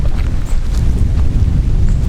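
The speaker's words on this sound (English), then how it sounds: "It's a bit windy, so it's kind of blowing around a bit." Steady low rumbling wind buffets the microphone throughout, a constant roaring blow with no voices.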